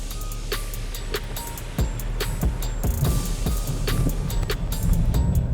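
A Jeep Compass Trailhawk, 2022 model, crawls over an off-road obstacle, with a low engine drone, scattered knocks and scrapes from the suspension and ground, and the motor swelling gradually toward the end.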